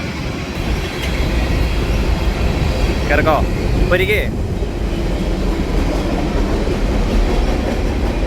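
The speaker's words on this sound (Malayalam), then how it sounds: "നമ്മുടെ ട്രെയിൻ ഇവിടെ എത്തിയിട്ടുണ്ട്." GO Train commuter train at a station, a steady loud rumble throughout with brief squeals of wheels or brakes near the middle, while people talk over it.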